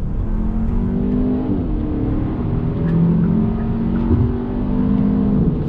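A 2021 Hyundai Elantra N Line with a seven-speed dual-clutch gearbox accelerates hard under throttle. Its engine note rises steadily, then a quick shift drops the pitch and it climbs again, loud and close from inside the car.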